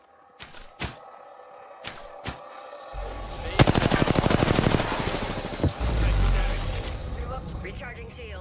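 Rapid automatic gunfire bursts in the video game Apex Legends, with earlier single sharp shots and thumps, then a loud sustained volley and a heavy rumbling blast, while a character voice speaks.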